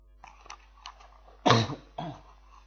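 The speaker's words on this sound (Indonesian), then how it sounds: "Oh, maaf batuk." A single sharp cough, close and fairly loud, from a person who is feeling unwell, with a lighter throat sound after it and faint clicks before it.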